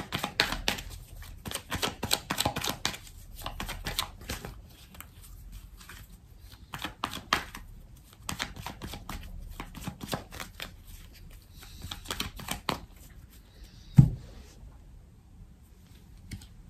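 Tarot cards are shuffled and laid out for a cross spread, giving a quick, papery riffling and flicking in bursts, with a sharp tap near the end and quiet after.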